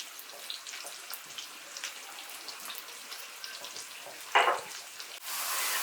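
Potatoes seasoned with salt and pepper fry in hot oil: a steady soft crackle, a brief sharp burst, then a loud, dense sizzle that swells near the end.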